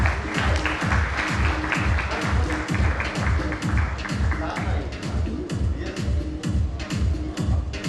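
Audience applause at an award ceremony, a steady wash of clapping layered over a loud, rhythmic low drumbeat, continuous and full throughout.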